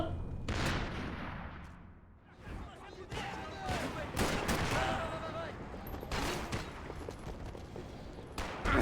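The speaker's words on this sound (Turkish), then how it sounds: "Lan beni niye vurdun?" Gunfire from the video game Max Payne 3 comes in dense bursts and scattered shots across the whole stretch, loud and busy, with speech mixed in underneath.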